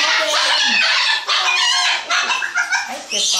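A small white Solomon cockatoo gives loud, harsh, continuous screeching calls close by, the raucous cries running almost without pause across the whole stretch.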